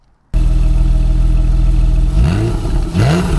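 A 2015 Porsche 911 GTS PDK coupe, 991.1 generation, with the 3.8-litre X51 power pack, starts from silence into a loud steady rumble, then gives two sharp rising revs near the end.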